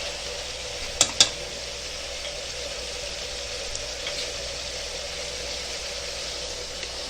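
Mutton browning in ginger garlic paste gives a soft, steady sizzle with a couple of sharp utensil clicks near the start, faint and even throughout, no voices.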